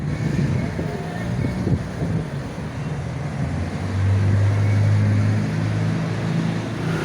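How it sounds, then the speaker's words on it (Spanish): Busy Saturday street traffic in central Ejido, Mérida, Venezuela: a steady roar of passing cars and engines with a rising low rumble as a heavier vehicle nears, plus some wind buffeting on the microphone. "como pueden ver el tráfico, el ruido, muy movido aquí al centro de Ejido"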